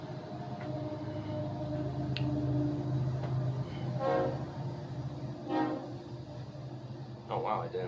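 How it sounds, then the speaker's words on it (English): A train passes nearby with a steady low rumble and rattling wheels over several seconds, no horn, with brief faint voice-like sounds in the background. "sorry about the train, it's going to be loud"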